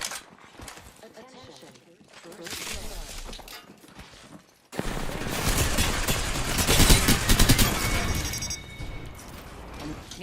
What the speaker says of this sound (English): Somebody already shooting at me?